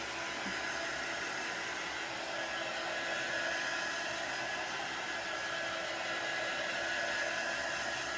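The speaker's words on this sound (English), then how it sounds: "I'm using a heat tool" Steady whooshing blower noise of an embossing heat tool, like a small hair dryer, constant and fairly faint with a thin whine, running without a break.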